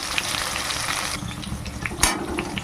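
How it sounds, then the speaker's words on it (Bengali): Potatoes and pointed gourd fry in a pan with a steady, close oily sizzle, broken by occasional stirring scrapes, with no voices. "এবার আস্তে আস্তে সব আমি একসঙ্গেই ভাজবো"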